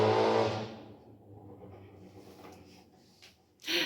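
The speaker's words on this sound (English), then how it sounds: "there's a very loud car that just went by" A very loud car passes by outdoors, its engine roar strongest at the start and fading over a couple of seconds, followed by a brief sharp noise near the end.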